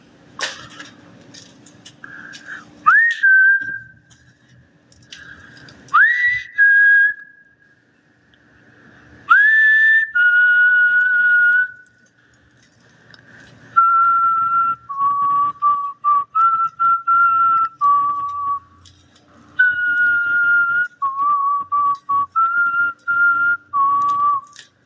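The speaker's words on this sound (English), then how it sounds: "Anybody know what I was whistling? That's some old school stuff." A person whistles an old-school tune in a dim, quiet space during a solo paranormal investigation at an asylum, clear melodic phrases in several bursts separated by pauses and soft shuffling.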